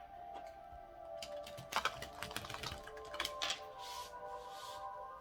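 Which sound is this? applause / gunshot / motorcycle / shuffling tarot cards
shuffling tarot cards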